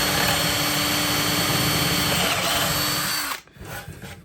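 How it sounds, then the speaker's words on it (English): A power drill whines loudly and steadily while boring a 6mm hole, then cuts off abruptly, leaving a brief rattle and settling noise. "So we drill through these."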